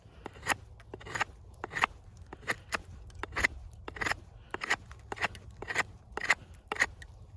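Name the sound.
knife blade whittling wood, Tops Moccasin Ranger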